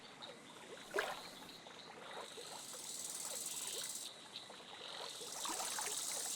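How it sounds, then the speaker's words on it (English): Designed water effects of two little ducks popping out of water: a sharp splash at the start, then soft trickling and lapping water sounds continuing at low to moderate level. "we have two little ducks popping out of water unexpectedly"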